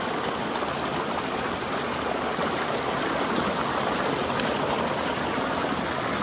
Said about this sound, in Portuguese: Olha só a água que está escorrendo aí.